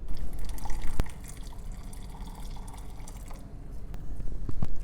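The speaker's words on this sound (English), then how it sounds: "Just added some more water because I felt there was not enough water." Water being added to homemade hibiscus tea, a soft trickle and drip with a few small splashes and clinks, close and fairly quiet, with no talking.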